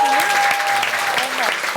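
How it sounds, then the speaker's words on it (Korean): An audience claps in loud, sustained applause for an invited oboe player at a televised lecture event, with a voice speaking over it. "박수로 한번."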